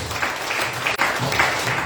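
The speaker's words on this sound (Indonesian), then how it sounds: "Beri tepuk tangan buat Tuhan Yesus." Church congregation applauding at a Sunday service, a short, steady burst of many hands clapping together, moderately loud and slightly roomy.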